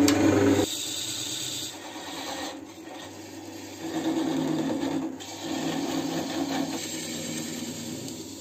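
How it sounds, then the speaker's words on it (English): A woodturning parting tool scrapes into a spinning wooden vase on a lathe, a close, steady rasping grind that breaks off briefly a few times before resuming. "Now I'll take this parting tool and separate it."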